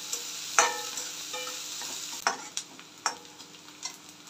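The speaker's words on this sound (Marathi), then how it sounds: "कांदा एकदम गोल्डन ब्राउन करून घ्यायचा, चांगला परतून घ्यायचा।" Onions with garlic and curry leaves fry in a pan for a bhindi sabzi, a steady sizzle broken by several sharp scraping strokes of stirring; no voices.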